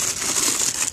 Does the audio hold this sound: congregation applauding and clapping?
no